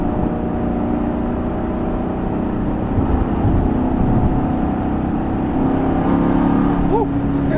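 A Camaro SS 1LE engine drones steadily and loudly after a downshift to fourth gear, rising slightly in pitch as it revs, with a voice talking over it.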